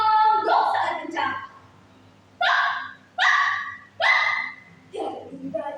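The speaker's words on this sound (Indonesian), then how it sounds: "Anjing pun menggonggong sangat kencang." A dog barks loudly as a sound effect in a school story performance: a run of several sharp, close barks in bursts separated by short pauses, ending in a softer whimpering yip.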